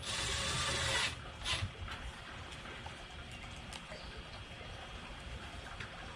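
A power drill driver set to a gentle setting drives screws into an IKEA Sektion base cabinet. It gives a loud whirring burst in the first second, then a short second burst, then fades to quiet mechanical ticking.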